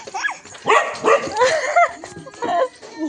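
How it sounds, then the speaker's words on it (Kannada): A dog barks and yips several times in quick bursts, fairly close, with a higher whimpering cry early on and some background noise. "ಅಲ್ಲಿ ನಾಯಿ ಬೊಗಳ್ದು ಕೇಳ್ತಾ ಉಂಟು"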